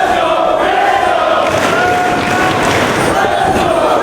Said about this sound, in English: As you hear the crowd getting behind Mark.